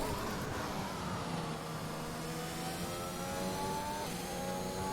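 Formula One race car engine in the F1 2021 video game, revving steadily as it accelerates, with a loud, continuous high-pitched whine and rising harmonic tones over about five seconds.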